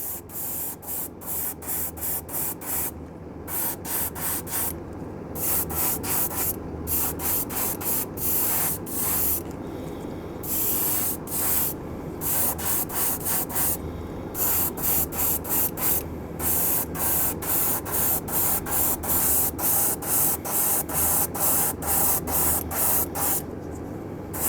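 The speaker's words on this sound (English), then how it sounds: "We've done our MS primer on the swim bait." An aerosol can of MS primer hisses in repeated bursts, spraying a handmade garfish swimbait lure; short pulses and longer sustained blasts run steadily and close, separated by brief pauses.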